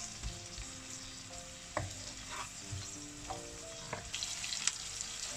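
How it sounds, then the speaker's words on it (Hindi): Onions fry in a pan for aloo shimla mirch, a soft steady sizzle with occasional scraping stirs and light clinks of a spoon, heard close but quiet with no talking. "इसको अब हम हल्का सा फ्राई करते हैं प्याज को।"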